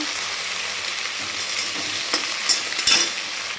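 Potatoes fry in hot oil in a pan for a Bengali banana-flower ghonto, giving a steady close hiss with a few sharp stirring scrapes near the end, and no talk.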